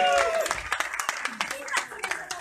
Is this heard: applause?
yes